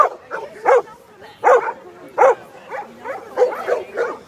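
Bernese mountain dog puppies bark in a string of close, loud, evenly spaced woofs with a few softer yips between.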